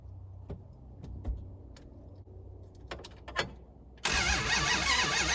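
A few clicks and clunks, then the engine of a 1971 Dodge Charger Super Bee, unrun for 34 years, suddenly cranks over with a loud, steady, rapid whirring that continues to the end.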